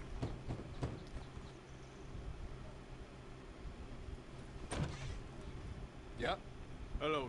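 A horse in Red Dead Redemption 2 shifts and clops with a few hoof thuds and a snort over a quiet outdoor ambience, close but faint, with someone talking nearby.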